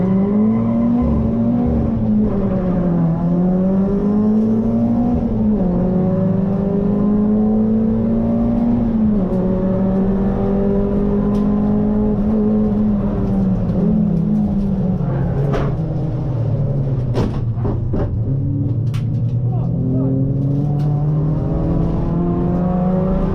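Race car engine at a race start at Donington Park, heard from inside the car, loud and constant as it revs and shifts with rising and falling pitch, with other cars whooshing nearby.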